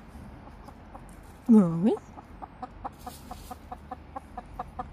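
A hen gives a single loud cluck-like call in a backyard, with a person speaking softly around it and faint rhythmic ticks in the background.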